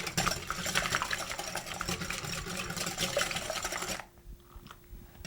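Eggs whisked by hand in a bowl for blueberry pecan French toast, a busy rapid scraping and clicking rhythm, close and fairly loud, stopping abruptly near the end and leaving faint quiet handling sounds.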